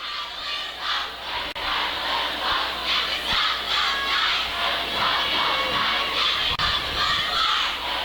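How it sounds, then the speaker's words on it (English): At a high school football game between Kamiak Knights and Snohomish Panthers, cheerleaders chant and the stands roar back, a loud, sustained wall of shouting and cheering voices that never lets up. "You hear the cheerleaders trying to get the crowd fired up."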